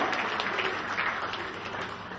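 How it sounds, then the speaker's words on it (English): Audience applause at a comedy magic show, a steady wash of clapping from a crowd that holds at a moderate level for about two seconds and fades slightly toward the end. "Give them a big round of applause, they're super sports."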